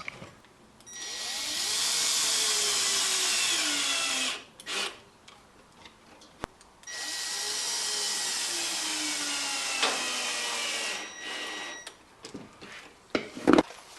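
A power drill slowly drives 3/4-inch number 6 screws into wood without pre-drilling, in two long sustained whining runs with pitch sweeps, separated by short pauses and small clicks, close and fairly loud.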